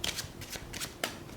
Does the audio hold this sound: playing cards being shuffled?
yes